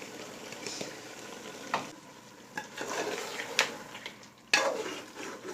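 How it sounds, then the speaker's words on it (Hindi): Yogurt and tomato masala frying and being stirred in a pot for mutton biryani, with a steady sizzle broken by scraping stirs and a few sharp clinks of a spoon against the pan, no talking. "दही डाल के भी हमने भून लिया है, दही का पानी खुश्क हो गया।"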